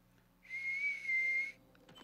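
A character in the video game Spyro 2: Ripto's Rage whistles one steady, clear note for about a second, with a slight wavering in pitch, over quiet game background sound.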